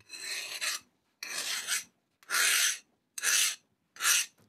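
A metal file rasps across a knife-like plane blade while it is sharpened, the edge hardened toward the tip. Five separate strokes come close and fairly loud, the first two longer and rougher, with short silent gaps between.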